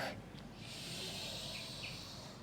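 One long, faint, steady breath is exhaled during an abdominal exercise while squeezing a ball, heard alone as a soft hiss.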